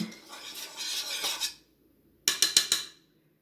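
A spoon scrapes and rasps around a porcelain bowl while stirring a face mask mixture, then after a short pause comes a quick run of four clinking taps against its side.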